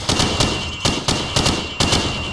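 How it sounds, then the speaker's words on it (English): Rifle gunfire fired from the hip in Call of Duty 4: Modern Warfare, a series of sharp, loud shots in short bursts of two or three with brief gaps, close and alone. "Now shoot at the targets while firing from the hip."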